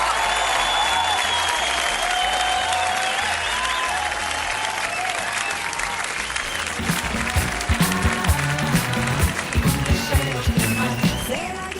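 Audience applause at a live evening broadcast, loud and sustained across the whole stretch, with crowd noise and music underneath; the clapping grows more distinct and rhythmic toward the end.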